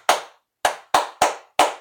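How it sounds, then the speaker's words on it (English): Five sharp hand claps, close and loud, with uneven gaps: a longer pause after the first clap, then the rest come in quick succession. "just 7 hand claps"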